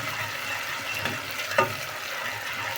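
Onions and tomato frying in a pan at home, a steady broadband sizzle with a couple of brief clinks or stirring knocks, close and moderately loud, no talking.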